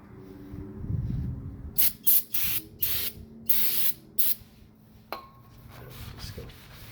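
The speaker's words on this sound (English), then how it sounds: "we're gonna spray it again, or spray this with the brake cleaner to get all this rust preventative stuff off" Brake cleaner sprays onto a new brake rotor during a Cadillac SRX brake and rotor job, a run of short loud hissing bursts in close succession, with softer rubbing sounds before and after.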